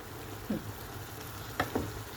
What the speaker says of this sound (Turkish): Şimdi karıştırmaya devam ediyorum.